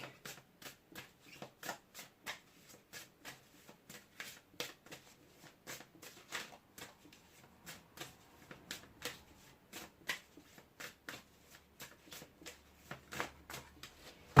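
An Elemental Oracle card deck being shuffled by hand, a rapid run of crisp riffling flicks and soft slaps repeating in quick bursts close up, with no talk.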